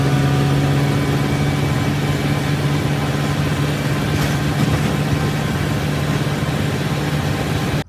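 A tractor engine runs steadily on a trip to a mill in a village, a loud, close, even diesel drone with a low hum throughout, no talking, cutting off at the end.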